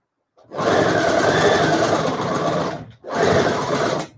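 A sewing machine runs in two bursts while stitching a cloth face mask, a loud close whir of about two and a half seconds, a brief stop, then a second shorter run.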